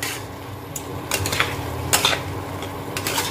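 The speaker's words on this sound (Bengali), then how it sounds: "কষাচ্ছি, এটা ভাজা নয়।" Paneer and potatoes being sautéed in a pan, with soft sizzling under a few light scrapes and clinks of a spatula against the metal.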